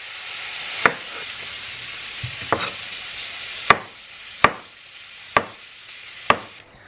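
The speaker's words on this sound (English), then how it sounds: "while my bacon is over there sizzling away" Steady crackling sizzle of bacon frying in a pan, with a few sharp knocks and clatters of utensils breaking through at intervals.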